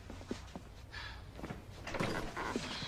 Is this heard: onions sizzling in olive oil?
no